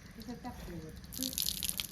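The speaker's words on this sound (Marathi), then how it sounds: "बघा आता किती पाणी निघते ह्यातनं" A short burst of speech, then water splashing and trickling as liquid is squeezed out and drains away, close by.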